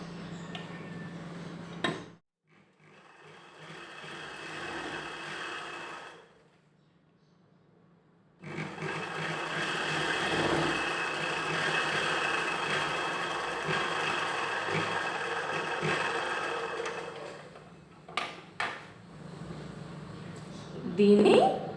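A sewing machine stitches chudidar pant cloth folded to keep the cross-cut fabric from stretching, running in a short burst, then after a pause in a longer steady whir that stops abruptly, with a voice around it.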